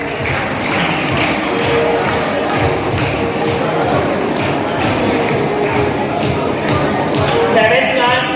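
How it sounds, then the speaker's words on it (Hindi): Children and audience at a school prize distribution applaud the pupils, a dense, steady wash of many hands clapping with crowd murmur throughout. "जोरदार तालियां बच्चों के लिए"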